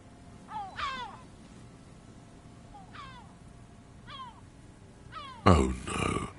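Gull calls from the video game Disco Elysium: several short, rising cries spaced a second or so apart, fairly clear over a low ambient hum, ending in a louder rustling burst.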